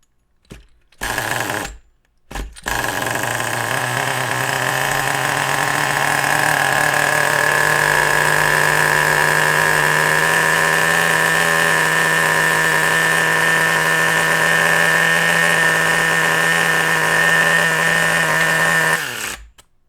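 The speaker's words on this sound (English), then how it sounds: "So if you guys heard that, it idled a lot higher." A lean-running RC nitro engine idles high and steady for about sixteen seconds after a couple of short bursts, a loud, even buzzing drone that cuts off abruptly at the end, with no voices.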